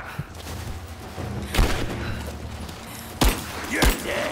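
Covering gunfire in Tomb Raider, several loud isolated shots and booms scattered over a steady background rumble of game ambience.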